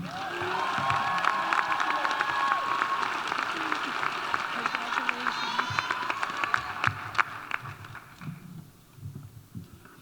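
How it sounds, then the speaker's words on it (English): An audience at a Black celebratory event gives a round of applause, dense steady clapping with some cheering that tapers off toward the end. "can we please give another round of applause for Elizabeth James?"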